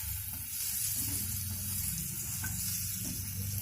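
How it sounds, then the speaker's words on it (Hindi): Okra frying with spices in a kadhai over a medium-low flame, a dense, steady sizzle with a low rumble, the stirring blending into the constant frying noise, no talking. "ये जो स्पाइसेस बचे हुए थे ये आप डाल देंगे इसके ऊपर और मीडियम लो पर आप रखेंगे एंड इनको फ्राई होने देंगे"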